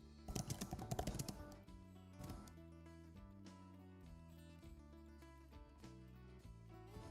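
Keys clatter on a computer keyboard as a prompt is typed, with a quick burst of rapid strokes at the start and then sparser, faint taps, close and with no talking.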